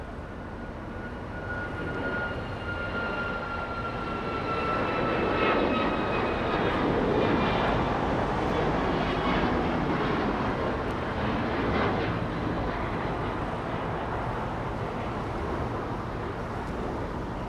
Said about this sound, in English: The aircraft on its takeoff roll is a 737 MAX 8, traveling right now 160 knots.